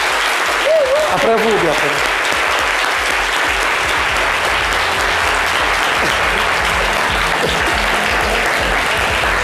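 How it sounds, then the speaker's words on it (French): An audience applauds a school group from Institut Sainte-Foy d'Abobo on a live midday show. Dense, steady clapping fills about nine seconds, with a brief spoken exchange near the start. "vos applaudissements, s'il vous plaît"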